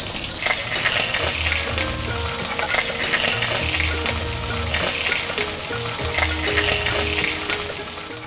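Marinated shrimp sizzle loudly in mustard oil in a large pan, a steady dense crackle with stirring scrapes throughout and no talk.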